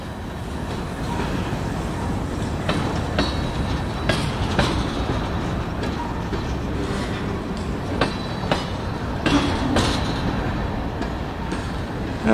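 BNSF freight train rolling slowly past another train in Greybull, Wyoming, a steady loud rumble of wheels on rail with repeated clicking joints and occasional sharp clanks, close and continuous throughout.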